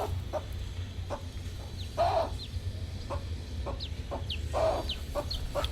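Chickens and small chicks cluck and peep close by in a farm setting, soft repeated clucks over a steady low background hum.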